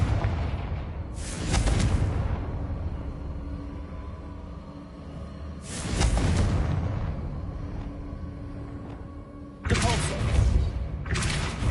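Confringo blasting spell in Hogwarts Legacy, three sharp explosive bursts several seconds apart, each a loud crackling blast that fades into a low rumble, with a voice speaking faintly between them.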